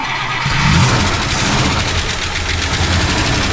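A 1960 Buick LeSabre engine cranking and catching after a fuel pump replacement, a loud close rumble with a rhythmic chugging pulse that holds steady throughout.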